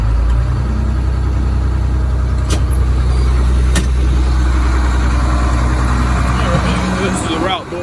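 A 2005 CE300 route bus with a DT466 engine idles close by at a steady, loud diesel rumble, with a few brief clanks over the engine noise.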